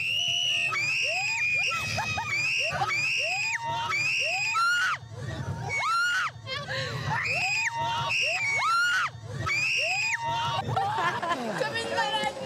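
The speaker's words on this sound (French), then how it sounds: "c'est parti pour 45 secondes de belle frayeur sur ce grand 8" Riders on the Twist, a big roller coaster at an animal park, scream loudly and repeatedly in overlapping shrieks against the rumble of the ride.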